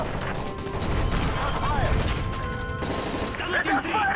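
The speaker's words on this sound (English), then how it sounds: "That's gunfire! Hijackers are taking the plane!" Rapid bursts of gunfire crackle amid a busy, noisy scene during a plane hijacking in the video game Call of Duty: Modern Warfare 3, with voices shouting over the shooting throughout.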